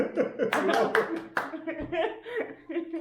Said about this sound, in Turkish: Kendi kendini yenildiğini de alkışlıyor.